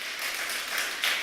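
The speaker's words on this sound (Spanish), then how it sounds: "Dale un aplauso al Señor" A church congregation applauds together in a continuous, moderately loud burst of clapping that swells slightly toward the end.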